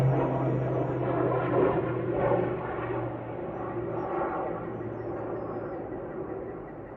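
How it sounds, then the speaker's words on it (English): A plane flying overhead drones steadily with a low engine hum, loud and constant for several seconds with no talking. "Pretty sure that plane's loud, so I'm gonna hold on a second."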